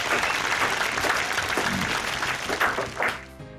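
Applause from a small group for a drink tasting fills the room steadily, dense and close, then thins out and tails off near the end.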